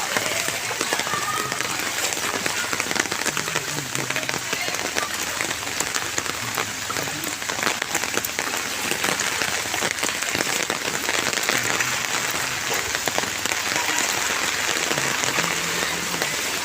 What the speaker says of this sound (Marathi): पाऊस अजूनही सुरू आहे